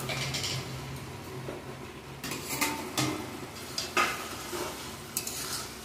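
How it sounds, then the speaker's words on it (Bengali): Fried koi fish go into a simmering gravy in a pan, a soft sizzle under clinks and scrapes of a utensil, with several sharper knocks against the metal. "এখন ভাজা কই মাছগুলো দিয়ে দেবো।"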